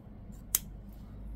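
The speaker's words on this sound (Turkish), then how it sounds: "İpimi şöyle uzunca tutup keseceğim." A single crisp snip of scissors cutting crochet yarn, close and brief against a quiet background.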